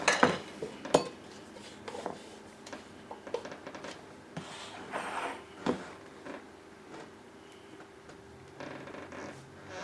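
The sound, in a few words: scooping chunky sunflower butter into a measuring cup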